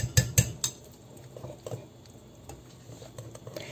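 A utensil mixes sweet potato dough in a bowl, producing soft irregular taps and scrapes, with a few sharper clinks at the start. No talking is heard.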